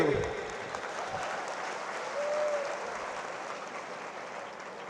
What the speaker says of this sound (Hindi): तो अब तो ताली बजाइए